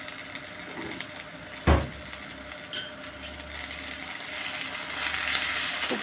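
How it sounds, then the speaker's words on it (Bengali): A spoonful of ginger garlic paste drops into a frying pan with a single soft plop, followed by a faint, steady sizzle of hot oil while dried fish is being cooked. "এক চামচ আদা রসুন বাটা দিলাম।"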